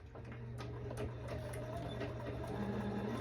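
A sewing machine stitching the lining and cowl of a dress together, its steady mechanical whirr running continuously with a faint rhythmic needle ticking, fairly quiet and close.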